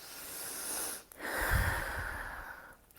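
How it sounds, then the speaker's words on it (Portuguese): A slow, deep breath taken during a devotional prayer, a long audible inhale followed by a brief pause and then a fuller, airy exhale, close and soft with no speech. "Se possível, façamos aquela respiração maravilhosa"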